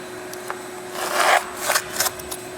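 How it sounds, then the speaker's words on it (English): A floor scraper pushes across a garage floor, trying to lift stubborn residue and glue, making several short, rough scraping strokes, the loudest and longest in the middle, close by with quiet gaps between. "the floor scraper isn't taking off this crap underneath"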